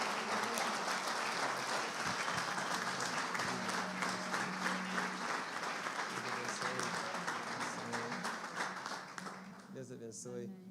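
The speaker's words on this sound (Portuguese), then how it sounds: "Você pode aplaudir Jesus," A church congregation at a Sunday celebration service applauds in sustained, dense clapping for about ten seconds, tapering off at the end as a voice comes in.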